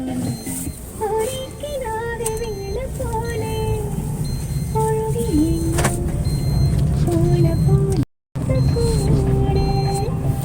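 A car's engine and road noise hum steadily from inside the cabin as it is driven, with faint squeaks and rattles over the continuous drone and one very brief dropout near the end.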